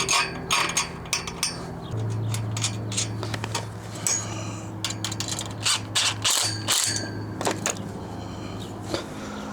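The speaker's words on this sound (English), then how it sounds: "you're going to go ahead and tighten the 10mm nut and hold down the head while you do it" Ratcheting a 10mm nut tight on a steel joint of a Harbor Freight CoverPro 10' x 20' canopy frame: rapid clicking ratchet strokes come in bursts close by, over a steady low hum, with no talking.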